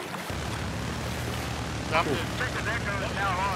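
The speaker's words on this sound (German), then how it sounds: "Helikopter kommt." A helicopter in the video game Battlefield 4 approaches with a steady rotor and engine roar under ongoing battlefield noise, while players' voices chatter faintly over it.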